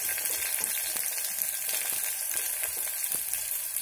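Mustard seeds, cumin and curry leaves hitting hot oil for a pumpkin coconut masala, a loud dense hiss and crackle with scattered sharp pops, close and constant with no voices.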